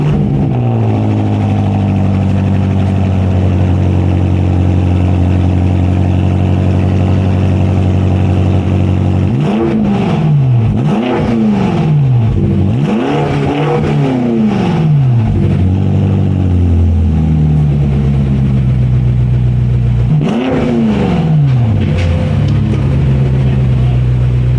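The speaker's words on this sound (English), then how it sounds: "So let's hear it fire up, and then I'll show you what it sounds like next to a stock M5 Competition." A BMW M5 Competition fitted with an AWE SwitchPath exhaust idles with a loud, steady deep rumble, then rises through several sharp revs in quick succession, settling back each time, with a final rev burst later on.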